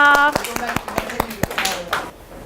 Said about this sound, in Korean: 박수 주세요.